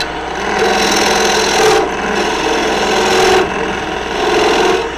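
Wood turning on a lathe with a spindle gouge shaping a shallow two-handled drinking bowl, a continuous scraping, rasping cut that swells and eases in repeated passes, close and fairly loud without talk.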